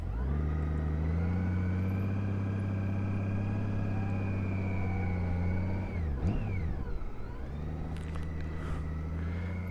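Motorcycle rolling slowly through a wide U-turn on an ordinary road, its engine holding a steady low drone that dips briefly mid-turn before settling back, loud and close throughout.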